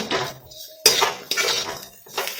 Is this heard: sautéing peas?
yes